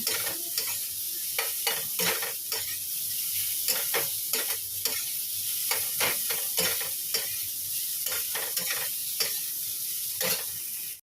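Salted fish fries in a pan until browned and darkened, a constant crackling sizzle punctuated by many irregular sharp taps and scrapes from a spatula, close and alone.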